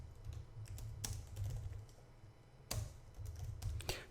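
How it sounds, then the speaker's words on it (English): Laptop keyboard typing, quiet clusters of clicking keystrokes with louder sharp taps scattered through a few seconds, recorded close with no talk. "It's between me and the laptop, so I have to reach around it to type in."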